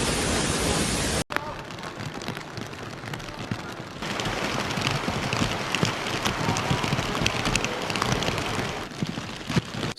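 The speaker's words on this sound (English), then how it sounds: "So how would I explain this much rainfall in a country like China?" Heavy rainfall in China pours down steadily as a loud, dense, continuous hiss of rain on surfaces, after a brief opening burst that cuts off sharply; a voice is faintly mixed in.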